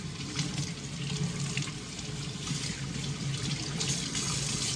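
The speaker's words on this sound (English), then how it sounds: "I have some strawberries in the fridge. And I'm gonna give these a quick wash." Tap water running into a kitchen sink while strawberries are washed, a steady close splashing and hissing stream that flows continuously without interruption.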